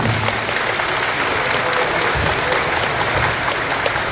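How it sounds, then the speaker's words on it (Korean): Steady applause from the audience at a residents' briefing on the redevelopment of a first-generation new town, a dense, continuous clapping that fills the hall from start to finish with no voices over it. "박수 한번 부탁드리겠습니다"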